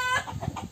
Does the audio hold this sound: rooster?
yes